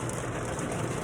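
Heavy rain dumps down on a golf course during a tournament round, a dense, continuous broadband roar of downpour with no voices.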